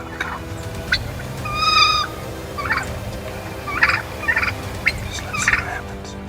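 Wild turkeys gobble in short, separate bursts, several calls spaced irregularly over a steady low background hum, moderately close and standing alone without talk.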